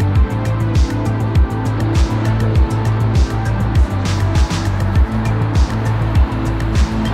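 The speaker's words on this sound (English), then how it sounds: "This is what I mean by traffic." Street traffic passing by on a wet day, heard as a loud continuous roar of cars with repeated rhythmic whooshes and tire hiss close by and no talking.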